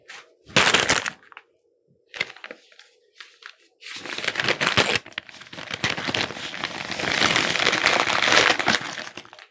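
Paper crinkles and crumples around a soccer ball. Loud, close rustling and crackling comes in bursts with short gaps, then turns into a longer continuous stretch of handling noise.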